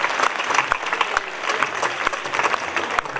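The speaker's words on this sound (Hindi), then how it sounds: "और एक ताली उस स्क्रिप्ट राइटर और डायरेक्टर के लिए" Audience applause at a college drama performance for the script writer and director, a dense steady wash of many hands clapping with sharp individual claps poking through, fairly close and loud throughout.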